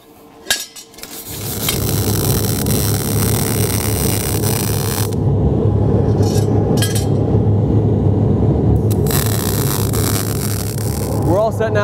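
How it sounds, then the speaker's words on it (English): A wire brush scrubs carbon and soot off fresh welds on a metal octagonal end table, a steady loud harsh rasping that runs continuously after a few opening clanks. "we wanna brush these off a little bit just to get rid of any extra carbon or smoke or anything that's on there"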